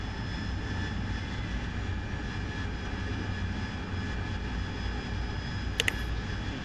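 An AV-8B Harrier jet taxiing in the DCS flight simulator gives a steady, loud engine drone with a constant whine, unbroken throughout, plus a couple of brief clicks near the end.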